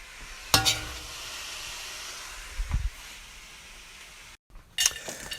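Brussels sprouts fry in a wok with soy sauce and maple syrup, giving a steady close sizzle with a few sharp clatters of stirring, a brief pause, then more scraping near the end.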